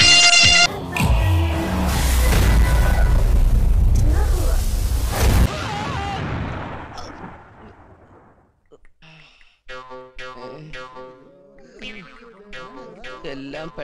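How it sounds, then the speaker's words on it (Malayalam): Loud firecrackers bursting during a Vishu celebration in a Malayalam film scene, a dense roaring volley for about five seconds that fades out, followed by people talking. "എന്തിനാ ആളുകൾ പടക്കം പൊട്ടിച്ചേ"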